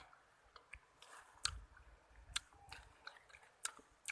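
Wild bak khi chang fruit being chewed outdoors, with soft irregular wet clicks and crunchy bites spread across a few seconds, close but fairly quiet.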